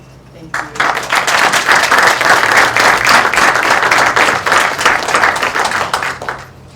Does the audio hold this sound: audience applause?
yes